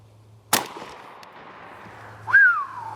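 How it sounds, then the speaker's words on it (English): A turkey shotgun fires a single loud report of TSS number 9 shot at a 20-yard target, the sharp blast decaying into a ringing tail, followed by a short rising whine near the end. "This first shot, TSS, number 9s, 20 yards, safety off, guns hot."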